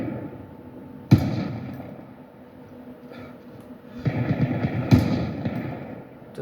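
Gunshots in the video game DayZ: a sharp single crack, then a quieter pause, followed by a cluster of louder reports and another strong shot near the end.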